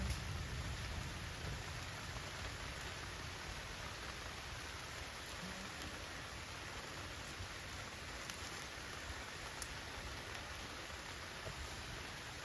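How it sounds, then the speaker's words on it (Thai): Steady rain falls continuously and evenly outdoors at night, a dense, unbroken hiss that stays level throughout with no voices or other sounds rising above it. "ฝนตกเรื่อย"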